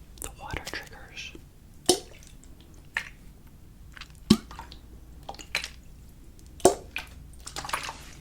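ASMR water trigger sounds: soft, sparse drips and wet squishy taps recorded close and quiet, with irregular spacing between small bursts and a faint whisper-like hiss underneath.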